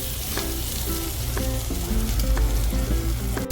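Country chicken curry sizzles and crackles steadily in a pot, a dense frying hiss with scattered pops and occasional clinks of a stirring utensil, no voices.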